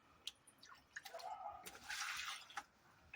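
Water is poured carefully into plastic fish transport bags, giving faint splashing and trickling with a few drips and soft plastic rustles, close by.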